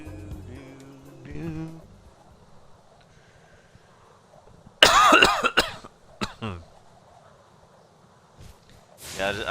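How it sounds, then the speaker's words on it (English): A person coughs a few times in short bursts to clear the throat while playing Spyro Reignited Trilogy, the coughs loud and close after quiet game music and faint speech. "trying to cough it out"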